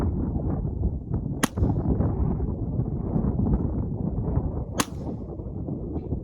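Strong wind buffets the microphone at an outdoor 200-yard range, a constant loud low rumble throughout, cut by two sharp cracks from a .22 LR CP33 pistol.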